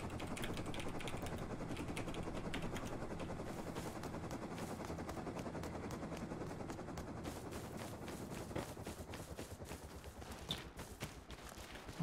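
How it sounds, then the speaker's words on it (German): Rapid machine-gun bursts and a helicopter's thudding rotor chop fill a battle in the survival game Rust, continuous and loud, with the shots growing more distinct and spaced toward the end. "Kommt ein Heli."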